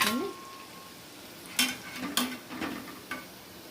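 Spices tempering in hot oil for curd vadas crackle in a few sharp bursts, mixed with light clinks of a utensil against the pan over a low background hiss.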